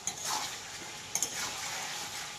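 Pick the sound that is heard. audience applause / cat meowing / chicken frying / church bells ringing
chicken frying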